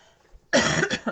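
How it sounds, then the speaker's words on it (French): A single close, sharp cough bursts out after a moment of near silence, followed by a shorter second cough. "Pardon, excusez-moi, oui, je tousse."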